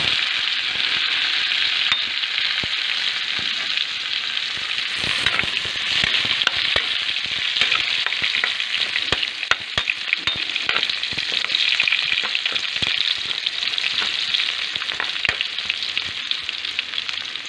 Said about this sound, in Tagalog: pwede na pong ilagay ang bawang sibuyas